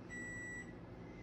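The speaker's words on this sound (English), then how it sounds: "oh, there's the timer." A kitchen timer gives a steady, faint electronic beep that holds one high pitch without a break, alone in a quiet room.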